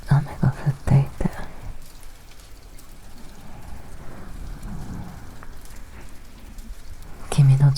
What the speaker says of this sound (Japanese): 雨が降っていて